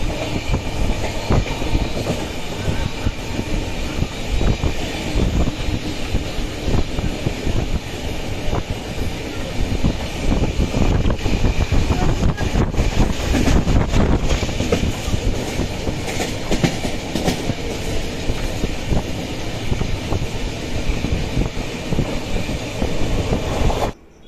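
Kulik Express train pulling out of Howrah station, heard from inside the carriage as a loud continuous rumble with rhythmic clickety-clack of wheels over rail joints and occasional squeals.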